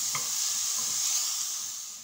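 Minced meat fries with onion in a pan, a dense, even, close sizzling hiss that holds steady and tapers slightly at the end.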